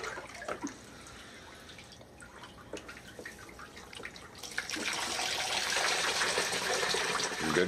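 Water trickling and dripping over a gold sluice in a basement, soft and close at first, then swelling into a steadier, louder rush of flowing water for the last few seconds.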